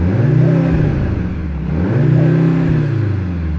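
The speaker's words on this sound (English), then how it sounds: "there's some electronic noises added to the sound through the speakers" Mercedes-AMG C63 S E Performance hybrid with synthetic electronic sound piped through its speakers, giving two swelling revs with a steady engine hum and whir, close and loud, no talking.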